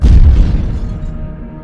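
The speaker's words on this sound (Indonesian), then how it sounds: "mobilnya meledak" A car exploding as the ignition key is turned, one heavy booming blast that rolls off into a fading low rumble.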